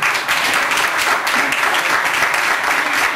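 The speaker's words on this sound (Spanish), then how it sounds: "¿Tú solo lo vas a aplaudir o lo aplaudimos todos?" Church congregation applauding together, a steady, dense wash of many hands clapping that stays loud and even throughout with no talk over it.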